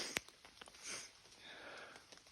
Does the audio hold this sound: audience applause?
no